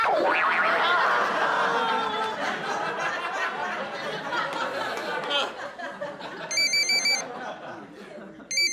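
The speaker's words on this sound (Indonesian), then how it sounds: "Telepon." A telephone rings with a repeated electronic trill near the end, following a stretch of busy, laughing chatter.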